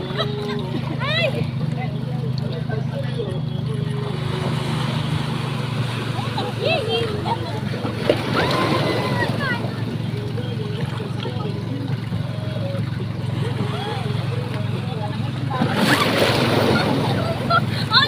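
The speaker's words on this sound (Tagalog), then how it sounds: "Pati yung talsik ng alon nakuha." Waves splash against a boat during a ride in Batangas, a constant rushing wash of water and engine noise with bursts of spray, while people talk loudly over it.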